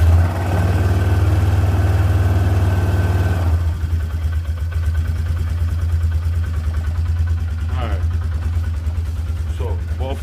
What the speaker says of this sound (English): Both the quads are running.